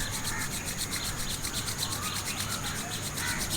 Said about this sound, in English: just rub your both hands together like this